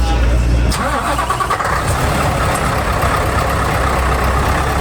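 A 16-litre V8 truck engine cranks and catches with a sudden burst, then settles into a loud, deep, rumbling idle up close.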